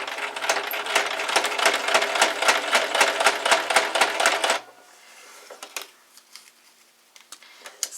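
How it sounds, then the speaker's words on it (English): A sewing machine stitches down the middle of Valentine's Day tags with a fast, even rattling run for several seconds. It then stops, leaving only faint handling clicks. "So I'm going to sew down the middle."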